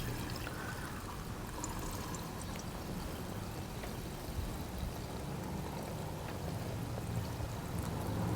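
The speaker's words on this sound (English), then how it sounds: "I'm going to pour it inside the filter." Two-stroke premixed fuel being poured into the fuel filter of a 2000 90hp Johnson outboard motor, a faint, continuous liquid trickle with soft hiss and no speech.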